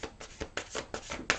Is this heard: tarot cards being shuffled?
yes